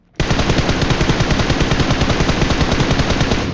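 Dense automatic gunfire from a shooting video game, a loud continuous rapid burst of shots with no pauses from start to finish, with no talk over it.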